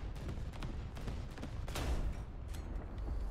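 Naval guns fire from a ship in the War Thunder combat game, a dense, rumbling barrage of rapid overlapping shots and blasts that continues throughout.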